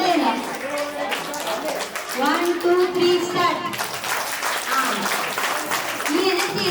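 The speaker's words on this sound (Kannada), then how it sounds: "ಮತ್ತೊಮ್ಮೆ ಲಾಸ್ಟ್ ಅಲ್ಲಿ ಇರೋರು ಚಪ್ಪಾಳೆ ಹೊಡಿಬೇಕು" An audience at a spiritual meditation gathering at a temple claps on cue after a count-in, a dense broadband patter of many hands under loud, excited voices and children's shouts close by.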